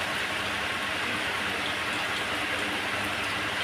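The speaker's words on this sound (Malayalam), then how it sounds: "നല്ല മഴ" Steady rain pours down continuously, a dense hiss of drops hitting surfaces with no voices, evenly loud throughout.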